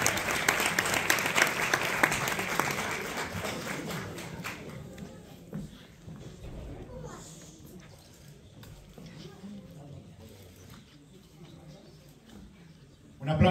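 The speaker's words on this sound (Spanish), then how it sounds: "Un aplauso para ellos." Applause for award winners at a gala of peñas clubs, a burst of crowd clapping that fades after a few seconds into room noise and scattered sounds, with talking heard beneath.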